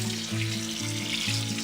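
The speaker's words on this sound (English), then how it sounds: "we're going to drain it and rinse it with cold water" Cold tap water runs steadily over drained, blanched rhubarb in a kitchen, a close, even splashing hiss with a faint repeating hum underneath.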